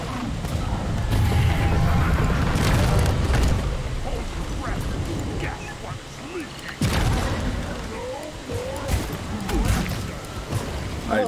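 A bomb goes off in the video game Deep Rock Galactic as a booby trap on a fallen player's body, giving a loud boom around three seconds and another burst near seven seconds amid game noise, with players talking over it.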